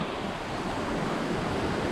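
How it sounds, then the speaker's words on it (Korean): Water spills down a small waterfall in a mountain valley stream in Gangwon-do, a steady broadband rush heard close and alone, with no breaks. "작은 미니 폭포? 그런 데서 물도 떨어지고 있어요"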